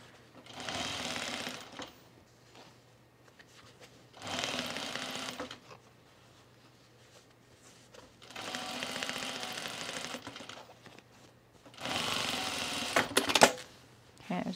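Sewing machine stitching a fabric divided basket bag in a straight line, four bursts of rapid mechanical running separated by quiet pauses, close and fairly loud.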